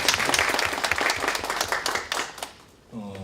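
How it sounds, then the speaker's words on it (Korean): An audience at an economics conference applauds a professor's introduction, with a thick burst of clapping that thins out and fades near the end as a voice begins. "박수로 맞으시면"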